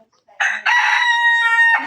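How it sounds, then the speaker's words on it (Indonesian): A Poland chicken crows loudly and close by, one long drawn-out crow that breaks off and resumes, heard clearly on its own. "Gitu ayam Poland tuh Bang."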